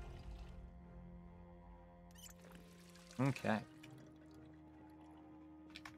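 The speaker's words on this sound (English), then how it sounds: "Let's go ahead and fill the water bottle from here." Filling a water bottle in the Project Zomboid video game, two short bubbly pouring bursts over a quiet background hum, with a voice speaking briefly.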